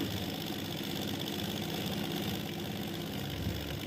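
A sewing machine stitches a piped cross pocket on a pair of trousers, running at a steady, unbroken whirring pace from start to finish.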